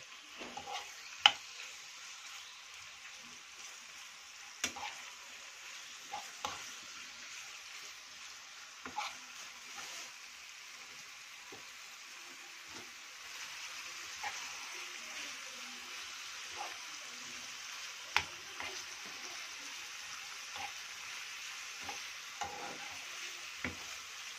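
Marinated food searing in a hot pan, a soft steady sizzle with scattered sharp clinks and scrapes of stirring, fairly quiet and without voices.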